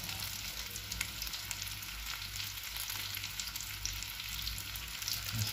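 Chicken pieces frying in a small amount of cooking oil, giving a constant, even sizzle that holds close and steady with no talking.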